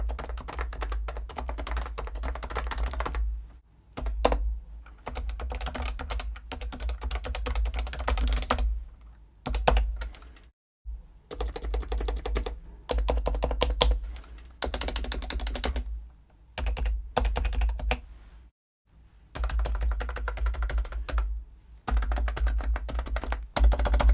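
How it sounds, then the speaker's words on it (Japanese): Light typing on a Topre Realforce R3 silent capacitive keyboard, soft muted keystrokes in quick continuous bursts broken by short pauses, close and alone with no voices. "軽くキーボードを叩いてみるとこんな感じです。"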